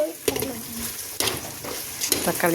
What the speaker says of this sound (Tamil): தக்காளி வதக்கியாச்சு